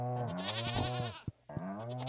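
Goat bleats from the farm video game Stardew Valley, two loud wavering calls close together, the first long and the second following after a brief silence, with no talking.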